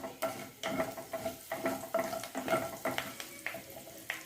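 Spices, garlic and curry leaves crackle and sizzle in hot oil as a tempering for sambar, with rhythmic bursts of spattering and occasional scraping of a spoon against the pan, fairly close.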